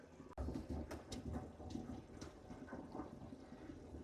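Water gushes and splashes into an accumulator tank in a box truck's plumbing system, a steady rushing flow after a sharp click, faint and close.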